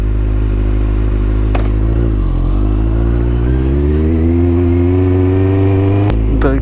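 A cold motorcycle engine runs at low idle without revving, a steady close mechanical drone with a brief dip in pitch midway and a couple of short clicks, no speech.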